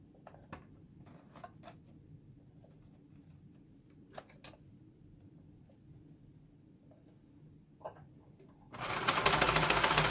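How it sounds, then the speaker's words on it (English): Quiet taps and handling of fabric come first, then a sewing machine starts up loudly near the end and runs steadily while stitching Velcro onto a fabric soap sack. "you're just going to sew the Velcro on either side of the openings"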